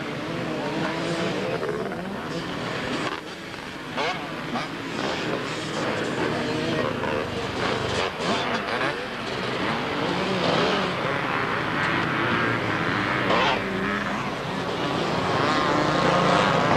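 A 500 Kawasaki racing motorcycle and other bikes roaring along a beach race course at Southport, loud engine drones rising and falling as they pass, with a busy crowd and a faint voice underneath.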